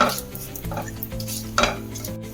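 Star anise, mace and a bay leaf crackle in hot oil, with a steady close sizzle and a few scraping stirs and light clinks against the pan.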